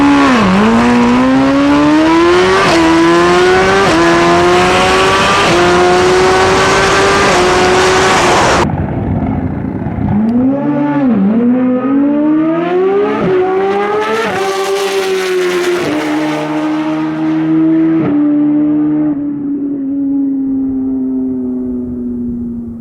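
A turbocharged Hyperbusa motorcycle on a stock-wheelbase world record run screams through its gears, the loud high engine note climbing and dropping with each upshift, close and continuous throughout.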